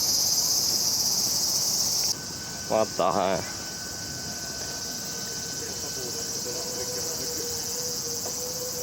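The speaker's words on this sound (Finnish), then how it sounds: "Heinäsirkkoja tai jotain." Crickets or grasshoppers chirp outdoors in Japan as a steady, shrill, continuous drone that runs through the whole stretch, with a man's brief exclamation partway through.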